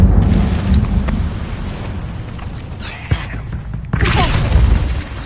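A roaring fiery blast from an Incendio spell in Hogwarts Legacy, loud and close, with a rumbling boom that swells again near the end.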